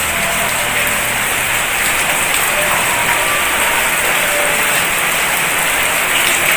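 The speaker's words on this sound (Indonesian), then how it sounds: "hujan turun sejak malam tadi" Steady rain pours onto garden plants, a dense even hiss of drops hitting leaves and surfaces, loud and close throughout with no voices.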